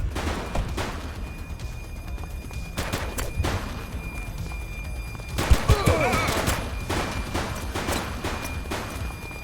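A suspect opens fire in the video game The Precinct, sharp gunshots cracking in bursts over a steady background hum, with a tight volley of loud shots near the middle.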